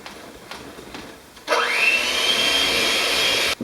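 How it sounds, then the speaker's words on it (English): An electric blender starts with a sharp whir and holds a steady, loud drone as it mixes almond bar batter made with flour, running for about two seconds before cutting off abruptly. "I'm going to incorporate this a little bit before I turn my blender on"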